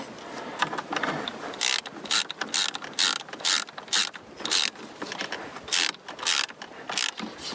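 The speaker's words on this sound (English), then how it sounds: "these are done up to 8 Newton meters with my calibrated torque wrench" Rapid mechanical clicking in repeated bursts from a calibrated torque wrench tightening to 8 newton meters on a boat windlass, crisp and close with brief pauses between runs.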